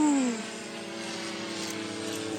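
Model C160 cargo airplane flying overhead while dropping a parachute, a loud steady droning engine hum with a brief pitch drop at the start as it passes, continuous and fairly close, with no talking.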